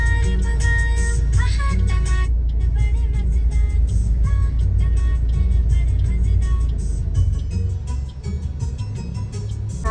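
Cars in heavy road traffic, a close idling engine rumble with passing vehicles and occasional horn-like tones, fairly loud and steady, easing slightly near the end.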